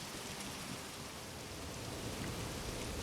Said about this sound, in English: Really? It's still raining?